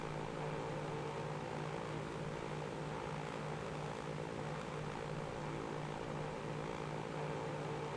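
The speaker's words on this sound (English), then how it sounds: "Taking off from the airport down there." A Lockheed Super Constellation propeller airliner taking off in the Transport Fever 2 game, its steady, loud multi-engine propeller drone with a low tonal hum holding constant throughout and no voices.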